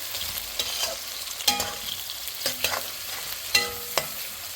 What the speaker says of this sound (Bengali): এখন ভালো করে নেড়ে ছেড়ে দিতে হবে